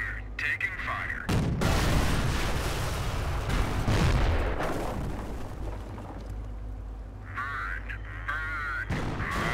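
Dense gunfire and booming artillery fill a Company of Heroes battle, a loud continuous barrage of shots and explosions with radio-style voices briefly cutting in at the start and end.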